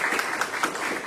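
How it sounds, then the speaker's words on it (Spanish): An audience at a book talk applauds, a steady patter of many hands clapping at moderate distance that fills the whole short stretch. "Jorge David Capielo, para que pida un aplauso"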